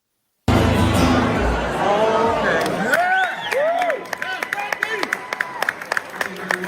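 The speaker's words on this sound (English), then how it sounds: "There will be a smattering of applause when he ends." Sparse applause and crowd chatter at a small event after a guitar performance: a broad murmur of voices gives way to scattered individual claps, with some speech rising above the crowd.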